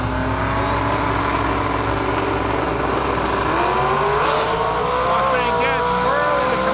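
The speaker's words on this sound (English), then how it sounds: "looks like a twin turbo Fox body far side of the track and like a 69 Camaro in our lane" Drag racing pair at a track: a twin turbo Fox body Mustang in the far lane and a 1969 Camaro in the near lane, engines roaring loud and continuous with rising revs and pitch sweeps, voices talking over the racket.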